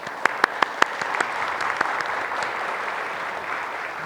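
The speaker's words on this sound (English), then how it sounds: "So a round of applause for her." A room full of people applauds at an awards ceremony, a dense, even clapping with a few sharp, close claps standing out at the start, with no one talking.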